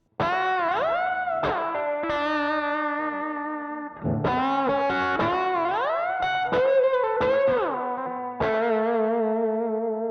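An electric guitar with distortion and chorus plays sustained notes that bend smoothly upward by an octave, several times in succession. The phrases are loud, close and ringing, with each bend gliding up and holding.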